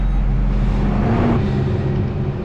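Newer fertilizer truck's diesel engine rumbles nearby, a steady low drone that swells slightly as it arrives before settling, with no talk.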